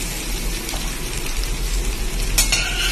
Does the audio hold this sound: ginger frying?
yes